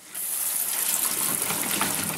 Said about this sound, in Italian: diamo una leggera sciacquata con dell'acqua fredda